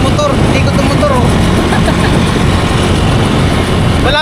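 A motorcycle engine runs in a parking area, a loud, steady, unbroken rumble throughout with voices mixed in.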